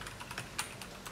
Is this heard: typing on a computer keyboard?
yes